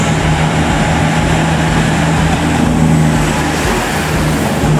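The diesel engine of a Nanki limited express train roars as it pulls away, a loud, sustained droning growl with a steady low hum and rising intensity, heard without talk.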